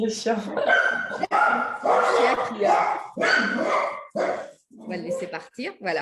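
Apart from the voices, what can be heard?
dog barking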